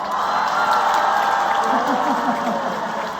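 An audience at a New York concert applauds and cheers in a sustained, loud wash of clapping and scattered whoops.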